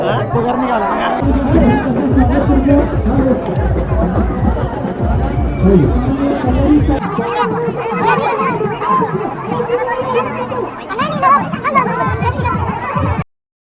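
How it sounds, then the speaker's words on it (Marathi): Dense crowd chatter and babble from people pushing and jostling to take photos with actress Janhavi at Suraj Chavan's wedding, continuous and loud with overlapping voices throughout. "इथे जान्हवी मॅम सोबत फोटो काढण्यासाठी खूप गर्दी झाली आहे. बाउन्सर्सला पण ऐकत नाही आहेत लोक आणि खूप ढकलाढकली चालू आहे"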